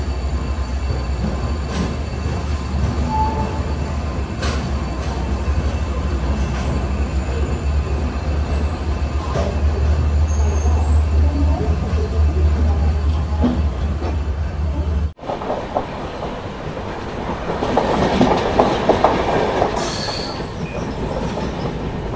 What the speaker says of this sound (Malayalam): പത്ത് മിനിറ്റത്തെ ഹോൾട്ടിന് ശേഷം മഡ്ഗാവ് ജംഗ്ഷൻ റെയിൽവേ സ്റ്റേഷനിൽ ട്രെയിൻ എടുത്തിരിക്കുകയാണ്